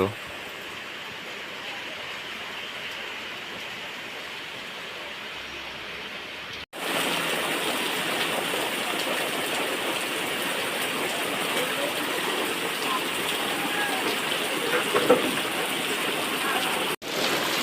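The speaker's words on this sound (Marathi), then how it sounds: "तुम्हाला दाखवतो पूर्ण पाऊस किती लागतो" Heavy monsoon rain pours down in the Konkan region as a dense, steady hiss of rainfall on surfaces, quieter at first and then much louder and fuller after a sudden jump partway through.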